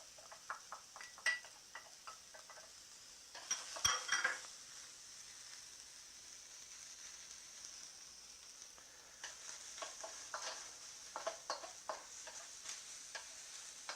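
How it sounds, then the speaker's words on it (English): Garlic going into caramelizing onions in a hot wok, with a sizzle and frying crackle under repeated stirring and scraping of a utensil against the pan, busiest near the start and again toward the end. "we'll go ahead and add our garlic."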